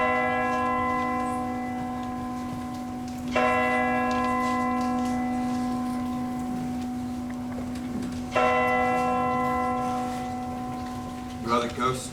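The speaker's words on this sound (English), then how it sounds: "The bell tolled a slow, solemn 12." Church bell tolling slowly in a stage production of A Christmas Carol, two resonant strikes several seconds apart with long ringing decays over a steady low hum, loud and close.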